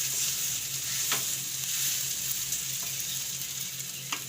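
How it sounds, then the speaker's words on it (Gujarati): Boiled potato filling for vada pav is mashed in a pan on a low flame, giving a steady close sizzle with a few faint soft knocks of the masher against the pan. "સરસથી આપણે ધીમા ગેસે મેશ કરી લેવું"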